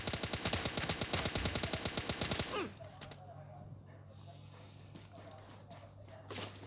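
Rapid automatic gunfire from a shooter video game, a loud dense burst of shots lasting a couple of seconds, then a quieter background hum with a few faint clicks and a short final burst.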